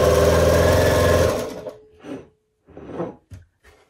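A sewing machine stitches quilt triangles from leftover scraps in one steady, close run that stops at about a second and a half, followed by a few short, quieter bursts of stitching.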